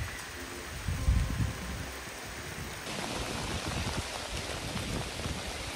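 Heavy rain pours down at an old farmhouse under renovation, a dense, steady hiss of drops on surfaces that swells slightly partway through and carries on without speech.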